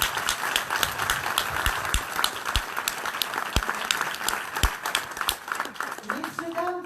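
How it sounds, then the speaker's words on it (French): Clapping at a conference, thinner and more scattered, with distinct individual claps standing out. It tapers off as a voice begins speaking at the end. "on va applaudir Chantal et Aurore"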